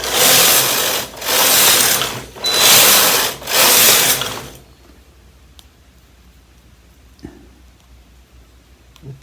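A KH930 knitting machine carriage is pushed back and forth across four rows, giving four loud, close mechanical whooshing sweeps with ratcheting clatter, followed by near silence broken by a few faint clicks.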